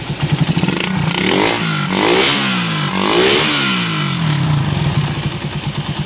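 Suzuki Raider 150 motorcycle engine running smoothly and evenly after a valve clearance adjustment, a steady close mid-pitched drone with no ticking, swelling slightly with light revs.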